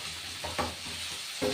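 Beef stew left to simmer in a pot gives a soft, low bubbling hiss, with a few faint knocks and clinks of a utensil against the pot.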